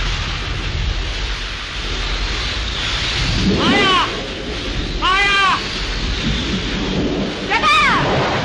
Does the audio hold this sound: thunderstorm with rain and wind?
yes